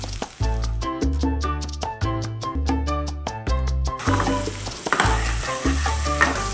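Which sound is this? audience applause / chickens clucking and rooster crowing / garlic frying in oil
garlic frying in oil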